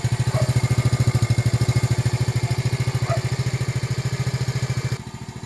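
A Rusi DL X 110 Delta motorcycle engine idles smoothly and steadily up close, a fast even putter that holds for several seconds before dropping slightly quieter near the end.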